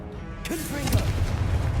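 A Confringo fire spell bursts in the Hogwarts Legacy video game with a sharp, loud blast and a rumbling, crackling tail, while a voice speaks through it.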